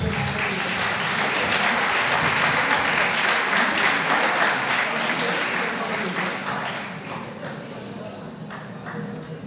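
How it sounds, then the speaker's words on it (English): An audience at a negotiation competition final in Issoudun applauds to welcome students to the stage. The dense, loud clapping, with voices mixed in, fades slightly toward the end. "Applaudissez-les pour les faire venir."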